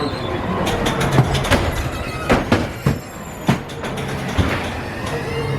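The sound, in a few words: ghost train ride car running on track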